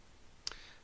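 A single crisp computer mouse click in a quiet room, one short sharp tick near the middle with a faint tail, no voices.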